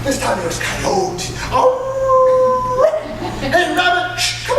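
Storyteller vocally imitating a coyote howl in a traditional tale, a drawn-out, wavering howl between stretches of spoken narration, near and clear before a live audience.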